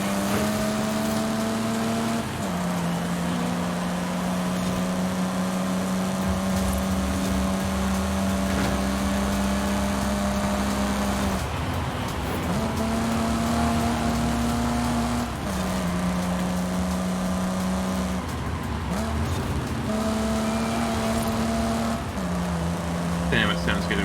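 A car in Forza Horizon 5 holds a loud, steady high-rev engine drone, dropping in pitch at several gear shifts and climbing again, with continuous tire and road noise under a voice talking.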